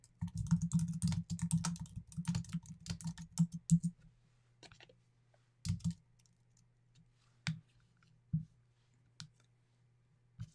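Rapid clattering keystrokes on a computer keyboard, close and busy for several seconds, then slowing to a few isolated taps separated by quiet pauses.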